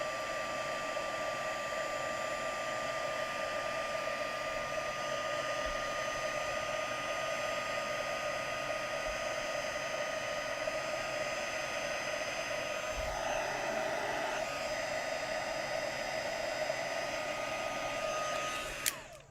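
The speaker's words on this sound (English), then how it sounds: "then we're going to take our heat tool" A handheld heat embossing tool blows hot air onto clear embossing powder for card making, giving a steady, close whooshing roar that holds even for about nineteen seconds before cutting off.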